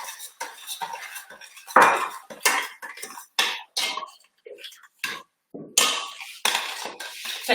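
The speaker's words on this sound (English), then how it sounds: "so give that a stir properly" Scone mixture with lemon juice stirred in a bowl, a rapid series of clinks and scrapes of a utensil against the bowl with short pauses between strokes, close and clear with no talk.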